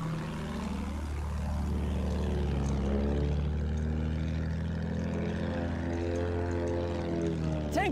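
A propeller plane drones steadily in the Battlefield 1 video game, a loud continuous engine roar with a pitch that sweeps and shifts as the aircraft flies, no voices present.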